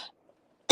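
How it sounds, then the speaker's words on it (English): A single sharp, loud cough bursting in at the very end, after a brief softer throat sound at the start and a near-silent pause between. "coughing up a lung as usual"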